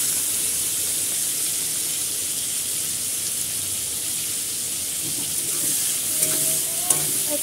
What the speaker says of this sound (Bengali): কড়াইতে একটু লবণ আর একটু হলুদ দিয়ে দিচ্ছি চিংড়ি মাছ ভাজার জন্য।